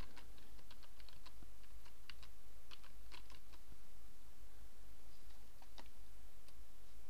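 Steady typing on a computer keyboard, a run of quick, light key clicks at close range over a constant low background hum, with no talking.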